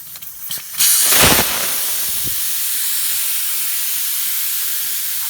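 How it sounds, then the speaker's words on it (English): Air rushes out of a Mickey Thompson slick tire's open valve stem after the core is pulled, a few short clicks then a loud sudden hiss that settles into a steady, slightly quieter close hiss. "We're going to take the valve core out. Take the air out of them."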